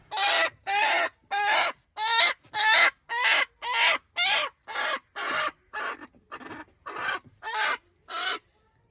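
A hen clucking repeatedly up close while one of its eggs is taken, a steady series of about fifteen short, evenly spaced clucks with brief silences between them.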